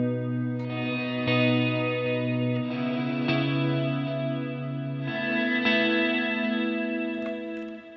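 Sustained electric guitar chords drenched in reverb and delay, with shimmering repeats blending into a wide, washy tone; no one speaks.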